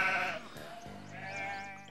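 Sheep bleat close by in a farm setting, one long wavering bleat followed by a second shorter, higher cry, loud and clear with no talking.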